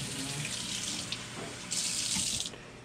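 A faucet runs steadily into a sink at a dental workbench, where hot water is being switched to cold for use as a coolant while grinding a denture. The flow grows louder and brighter partway through, then eases back.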